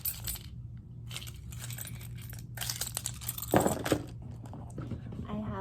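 A keychain loaded with house, car and mail keys jangles and clinks in bursts, close by, with a sharper rattle midway and some handling noise.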